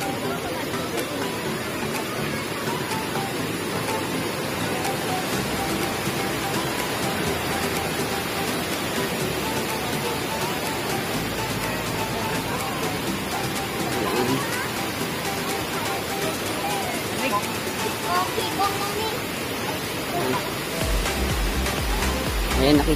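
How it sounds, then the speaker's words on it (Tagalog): Waterfall at Seven Falls in South Cotabato, Socsargen, pours as a steady, broad rush of falling water, loud and continuous throughout, with voices talking faintly over it. "Ito po yung unang falls."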